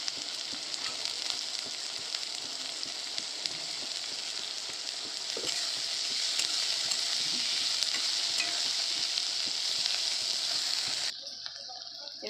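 Green chillies frying and being stirred in a pan for chicken bharta: a steady, close hiss of sizzling oil with soft scraping stirs throughout, cutting off abruptly near the end.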